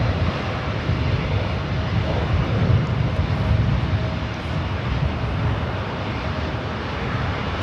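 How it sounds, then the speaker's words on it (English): A Spirit Airlines Airbus A321 jet at LAX produces a steady, fairly loud engine roar with a broad rumble that swells slightly and then holds. No voices are heard. "Spirit Airlines heading to Chicago O'Hare. It's an A321."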